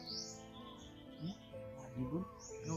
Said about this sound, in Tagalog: Ibon? Anong ibon yun?